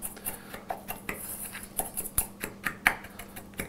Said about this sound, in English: We just gotta mix this up using a whisk